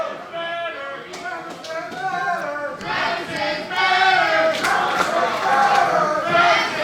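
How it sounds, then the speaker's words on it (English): A wrestling crowd at a Future of Honor event chants together, a loud, dense wall of voices swelling louder midway and holding steady, with scattered shouts rising out of the mass. "you hear this factory crowd saying Travis is better"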